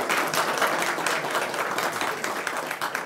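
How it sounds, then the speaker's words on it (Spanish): Audience applause after a speaker's thanks to Abraham Santibáñez, Chile's 2015 National Journalism Prize winner, at a university communications and arts faculty event: a steady, dense wash of clapping from a crowd, moderately loud and continuous throughout. "un aplauso"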